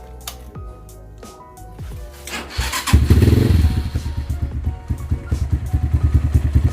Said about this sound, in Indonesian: Jadi hal terakhir yaitu kita nyalain motor.